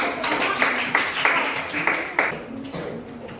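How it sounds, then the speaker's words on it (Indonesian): A classroom of pupils clapping hands together, several sharp bursts in a loose rhythm over about two seconds, close and fairly loud, then fading out. "Ya, tepuk tangan dulu."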